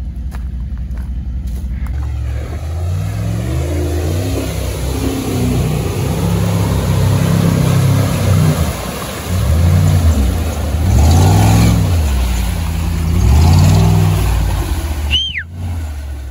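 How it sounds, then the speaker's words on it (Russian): An American V8 in an off-road vehicle revs repeatedly in a dry forest, loud and close, with deep rumbling swells rising and falling over a steady idle. "Ах, V8, как звучит. Здесь V8 американский, это не UZ."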